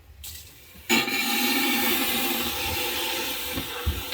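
Water suddenly starts rushing through a hose into an RV tank, a steady loud gushing that continues without pause.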